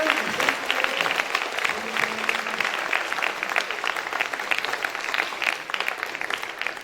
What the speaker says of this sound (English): Can we all clap for our library?